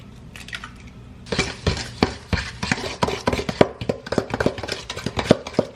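Butter, sugar, eggs and vanilla being mixed in a bowl, heard as quick, close clacks and scrapes of a utensil striking the bowl in an uneven rhythm that grows busier after a quiet start.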